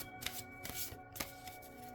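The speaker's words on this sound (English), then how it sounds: "I'm going to shuffle the cards like this." A deck of tarot cards is shuffled by hand, close and quiet, with soft riffling flicks and a few sharper snaps over a steady faint hum.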